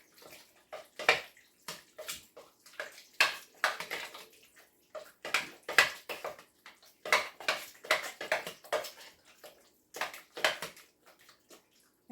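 Spoon stirring a wet chicken broth casserole mixture in a dish, a series of soft, sloshing, squelchy strokes in an uneven rhythm, close and fairly quiet with no talking.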